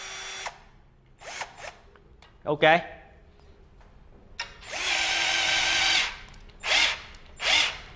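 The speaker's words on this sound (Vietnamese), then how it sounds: "Bây giờ mình sẽ khoan cho anh em xem ha." A Worx 20V cordless drill with a brushed motor and 2Ah battery whirs in short bursts, then one long steady run, close and loud, with someone speaking briefly between bursts.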